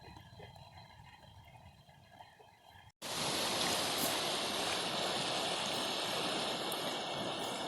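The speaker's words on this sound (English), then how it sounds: "we just had more water come rushing down" Flood water rushing down a desert wash after a storm, a broad continuous roar that starts faint, cuts out briefly, then returns loud and steady up close.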